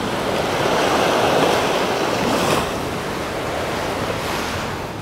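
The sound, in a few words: ocean waves on a windy day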